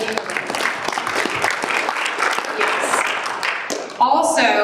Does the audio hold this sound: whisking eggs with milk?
no